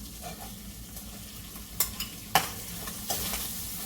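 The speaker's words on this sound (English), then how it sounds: "So I sauteing down now the codfish with the scallion and the thyme and my little garlic" Codfish sautéing in a pan with scallion, thyme and garlic, onions about to go in, sizzles softly and steadily, broken by several sharp utensil scrapes and clinks against the pan in the second half.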